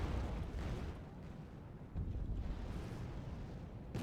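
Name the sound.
HE explosions and artillery in Wargame Red Dragon video game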